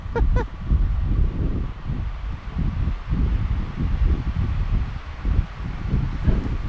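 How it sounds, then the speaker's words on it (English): Wind gusting through garden tree branches, a steady low rush and rustle that swells and eases in uneven waves throughout, close to the microphone, with a few brief higher sounds near the start. "There's the wind blowing, you can see the branches there now"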